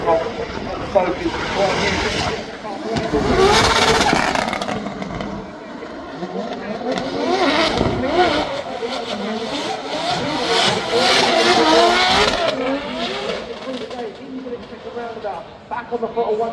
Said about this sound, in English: He lights up the tyres on the back of that Toyota GJ6.